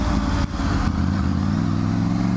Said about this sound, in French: On va juste lâcher les gaz et rétrograder.